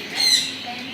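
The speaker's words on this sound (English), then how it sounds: "Look at all the birds in here." Birds squawk in a bird park souvenir shop, one louder harsh call rising briefly over a busy indoor background with some voices nearby.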